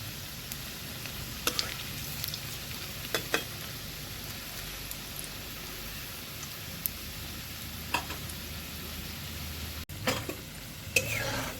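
Pui leaf pakoras frying in oil, a soft continuous sizzle with occasional light clicks and taps as the fritters are gently flipped.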